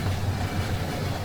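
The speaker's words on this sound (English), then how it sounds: "So the train just finished departing, and there it is, crossing the bridge." Model train rolling steadily across a bridge after departing, a continuous low rumble with faint rail clatter, close and even throughout, no voices.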